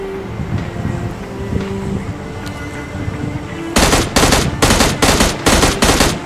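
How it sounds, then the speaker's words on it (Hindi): M16 rifle fire in a battle royale video game comes in loud, close bursts of rapid automatic shots in the second half, after a quieter stretch of game background ambience. "अब भाई मैं इसे M16 से ही मार देता हूँ।"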